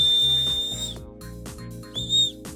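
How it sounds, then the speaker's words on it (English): A shrill, high whistle from a lanyard whistle sounds for about a second, then after a short gap comes a second, briefer blast. "a whistle if you haven't noticed"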